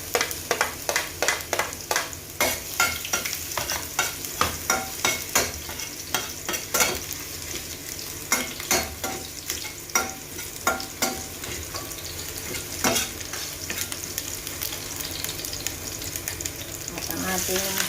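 Garlic fries in a pan at the start of a fish sauce recipe. A dense, steady crackling sizzle is punctuated by frequent sharp spatula taps and scrapes against the pan, heard up close with no speech.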